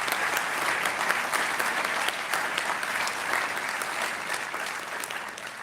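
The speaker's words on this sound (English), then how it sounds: "I think you ought to all give them an applause for those of those who have supported you." Sustained applause from a large audience at a doctoral hooding ceremony, thick continuous clapping with individual claps popping out, steady throughout with a faint crowd murmur beneath.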